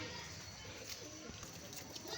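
Faint pigeons cooing among a flock of Lakha and other breed pigeons, soft low murmuring coos under a steady noisy background, with a voice talking nearby.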